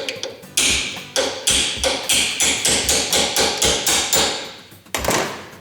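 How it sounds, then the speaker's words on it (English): A drift punch is hammered to drive a bearing race off the pinion gear of a Honda TRX300 ATV final drive. About a dozen sharp metallic blows land in a steady, evenly spaced rhythm, loud and close, with no talk. "I'm just going to take a drift punch and just drive that off of there"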